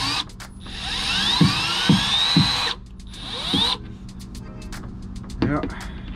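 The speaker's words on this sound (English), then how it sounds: "I'm using my Milwaukee drill" A Milwaukee cordless drill whines in repeated bursts removing screws from the floor of a 1980 20-foot Robalo boat, revving up and cutting off several times, with clicks and thumps between runs and some speech nearby.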